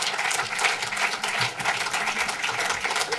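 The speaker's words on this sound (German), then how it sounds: "Dein Applaus." Audience applause at a German film talk event welcoming a director on stage, a dense, even roar of clapping filling the room throughout with no gaps.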